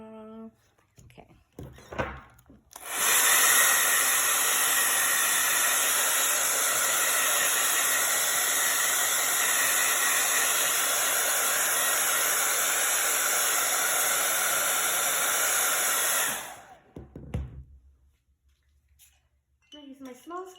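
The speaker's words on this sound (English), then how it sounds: "I'm gonna blow dry my trees just to make sure they're all the way dry before I start layering on the snow" A hair dryer blow-drying painted trees runs as a loud, steady, broadband whoosh for about fourteen seconds, switched on and off cleanly, with faint handling sounds just before and after.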